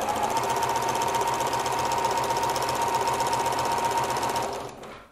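A sewing machine runs continuously at steady speed, stitching fabric for a smocked summer dress, loud and close with a fast mechanical whir, then winds down and stops at the end.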